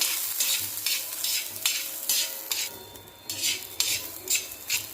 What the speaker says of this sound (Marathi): दोन चमचे हरभऱ्याची डाळ घेतलेली आहे ती टाकून घ्यायची आहे ती पण कांद्यासोबत छान भाजून घ्यायचे